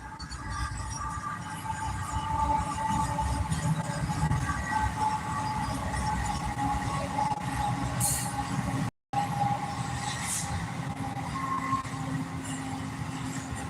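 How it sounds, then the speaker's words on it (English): A train rumbles past close by, a steady heavy roar of wheels and rails with high squeals rising over it. "Here comes one of them there trains."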